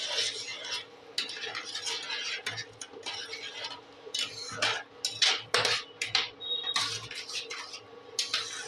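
A spoon stirring homemade tomato sauce with sugar and white vinegar in a metal pan, giving repeated irregular scraping and clinking strokes, close and fairly quiet, with short pauses between bursts.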